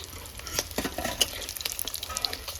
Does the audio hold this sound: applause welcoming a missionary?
no